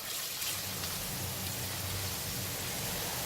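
Ginger sizzles in hot oil in a pan as it deep-fries until crispy, a steady, dense hiss with no pauses, close and even in loudness.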